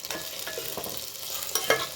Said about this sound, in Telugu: బెండకాయ మంచిగా ఉడుకుతుంది